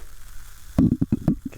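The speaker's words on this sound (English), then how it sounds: "The sizzle." Food sizzles in a pan in a short burst of crackling spurts, fairly close and moderately loud, with no talk over it.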